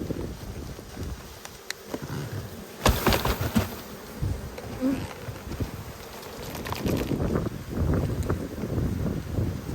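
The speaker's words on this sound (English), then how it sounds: "So I'll just shake the last of these bees in." A dense swarm of honey bees hums steadily outdoors as they are shaken into a hive box, with wind gusts buffeting the microphone and some handling and scraping noises throughout.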